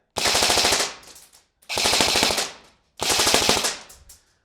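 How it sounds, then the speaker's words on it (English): An airsoft rifle on a 9.6-volt battery firing full auto with a high-capacity magazine running low on BBs, three close, loud bursts of rapid clattering shots, each about a second long with short pauses between. "now it's shooting a little more inconsistent because the high cap mag is pretty much out of BBs"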